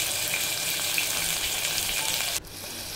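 Onions and green chillies frying in hot oil with mustard seeds and cumin, being stirred once in a pan for a homemade charu, a steady close broadband sizzle that cuts abruptly near the end.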